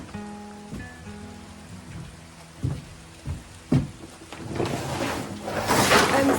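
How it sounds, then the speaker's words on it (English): Rain falls in a fall garden in Michigan, with a few sharp knocks and clatters early on before the steady patter swells louder and fuller toward the end. "I'm so excited that it's raining."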